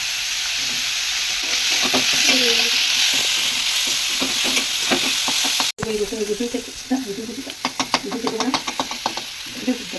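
Chicken meat fries with salt for momo filling, a loud steady sizzle in the pan with spatula scrapes and clatter, while someone talks over it.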